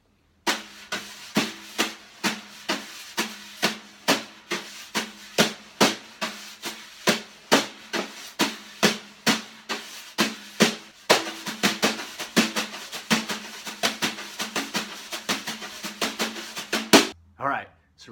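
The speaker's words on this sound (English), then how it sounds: "as I'm doing this brushwork, as I'm doing these eighth notes" Drum brushes on a kit play steady eighth notes in a samba groove, giving a close series of crisp swishing taps with accented strokes, alone, before one final louder hit.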